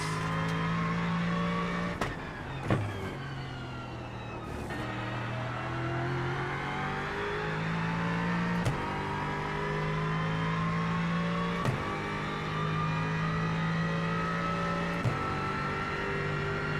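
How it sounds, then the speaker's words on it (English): An Aston or Mustang GT4 race car engine in a racing video game, revving steadily and climbing through upshifts, with short sharp breaks and rev drops at each gear change, loud and continuous. "Then like the upshifts and the downshifts are really nice."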